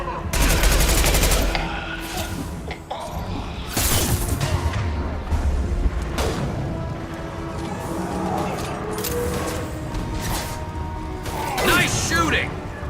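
Rapid bursts of gunfire and weapon blasts from the game Mass Effect crackle in clustered volleys over several seconds, mixed with game voices and a player talking.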